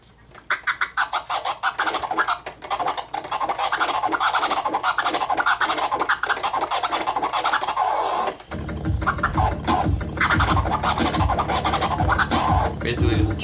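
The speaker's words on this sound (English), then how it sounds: "Basically just a chirp." Turntable chirp scratches cut in a steady rhythmic series, close and loud, with a thicker beat-backed section joining in the second half.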